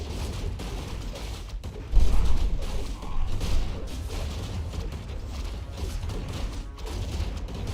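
A mortar team bombards a base in a strategy video game, with dull booms and rattling impacts over a steady mechanical rumble, one stronger burst standing out amid ongoing muffled battle noise.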